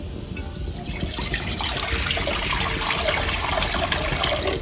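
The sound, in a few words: water being poured into a clay pan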